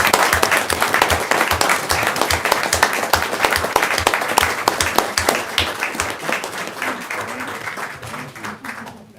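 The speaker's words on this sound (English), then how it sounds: "everybody please give them a round of applause" At a council regular session, a room of people claps for a class, loud, close applause with distinct individual claps in a brisk rhythm that gradually thins and fades out over about nine seconds.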